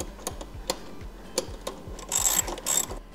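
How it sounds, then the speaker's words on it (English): A ratchet tightens fender bolts on a Jeep Wrangler, giving rapid close clicking in repeated strokes, with brief louder metallic rattles near the end. "And then we'll tighten up the back one too."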